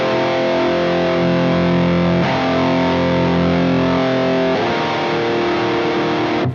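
Heavy distorted electric guitar through an amp with its bass dialed in, three sustained chunky chords ringing one after another, loud and dense with no talk.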